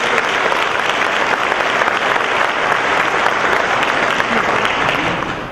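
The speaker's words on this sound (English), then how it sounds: "So everybody give Matt a round of applause." An audience applauds steadily for Matt at a community foundation's awards celebration, dense clapping filling the room at a constant level and fading slightly at the end.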